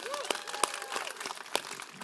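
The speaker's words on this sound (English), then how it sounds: "So let's give them a round of applause for their support." An audience at a Robinhood event applauds, with a short patter of claps and a few sharper individual claps at moderate loudness.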